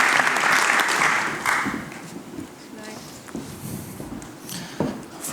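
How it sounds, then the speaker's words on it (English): Audience applause at an evening panel event on stage, a broad clapping wash that is strongest at the start, then thins and fades while a few voices talk over it. "you can give an applause to them"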